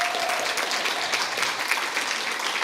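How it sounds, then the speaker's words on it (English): Steady applause from a crowd, dense clapping filling the whole stretch at an even, sustained level. "Will you give him a big round of applause?"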